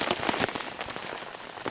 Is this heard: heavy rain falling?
yes